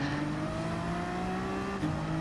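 Race car engine accelerating in a racing video game on a downhill corkscrew, a steady loud whine rising in pitch through the gears, with a brief shift dip near the end and no talk.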